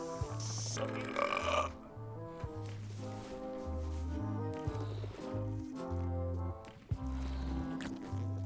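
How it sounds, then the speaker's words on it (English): Cartoonish burping contest in the pirate adventure game Return to Monkey Island, a few loud gulping belches over a bouncy game music score, with no talking. "They're excellent for burping contests."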